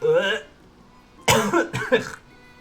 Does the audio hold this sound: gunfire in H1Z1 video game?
no